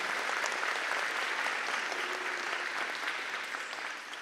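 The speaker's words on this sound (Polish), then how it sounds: "To brawa dla nich wszystkich." Sustained applause from a concert audience at a live charity event, a dense steady wash of many hands clapping throughout, easing slightly at the end.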